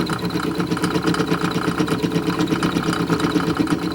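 A drill press set up as a milling machine cuts crosswise across a part held in a cross vise, giving a steady motor whine with a fast rhythmic chatter from the cutter, close and continuous, with no talk.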